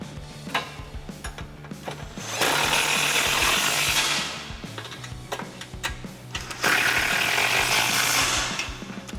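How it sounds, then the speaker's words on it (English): A socket wrench with an 18mm socket ratchets while tightening skid plate bolts on a 2018 Jeep Wrangler JL, heard as two sustained bursts of rapid clicking separated by scattered metallic taps and clinks. "Then you can tighten them down using an 18mm socket."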